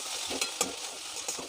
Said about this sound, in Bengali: আলু এটাকে মশলার সঙ্গে মিক্স করে দেবো আলুটাকে।